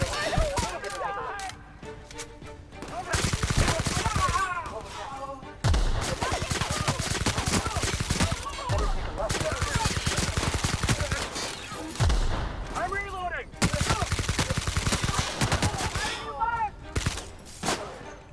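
Gunfire in the video game The Outer Worlds: rapid automatic bursts and sharp single shots rattle in long loud stretches with short pauses, with a voice talking over parts of it.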